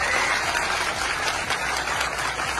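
A political rally crowd claps loudly and continuously, a dense, steady wash of applause filling the whole stretch without a break.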